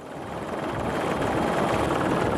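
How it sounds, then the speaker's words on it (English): Rescue helicopter hovering overhead during a winch rescue, a loud steady rotor roar that swells slightly over the moment, close and continuous with no talk. "The helicopter came back up and dropped the winch once again and hooked me in."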